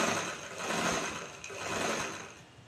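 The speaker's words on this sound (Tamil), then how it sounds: "சுடிதார் டாப்பையும் கரெக்டாக வச்சு கழுத்துக்கு ஏற்ற மாதிரி இப்படியே வளைவாக தைக்கிறோம்" A sewing machine stitches a curved back neckline on a chudidar top, a close, steady mechanical whirring that swells and dips slightly throughout, with no voices.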